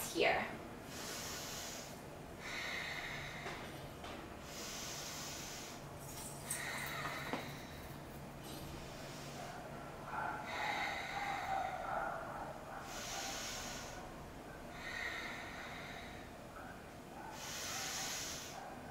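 Slow, deep breaths drawn and released during a seated yoga hold in a vinyasa session for tight hips, several soft, airy exhalations repeating at a steady, unhurried rhythm, close and quiet with faint room tone between them.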